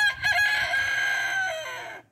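A Light Brahma rooster gives one loud, close, drawn-out crow that tapers off, with a few soft clucks at the start and no other sounds.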